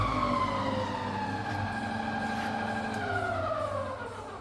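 A fully rebuilt Bridgeport milling machine with a 42-inch table runs its spindle at 350 RPM, a steady whining hum with rising harmonic tones, close and alone, fading slightly at the end.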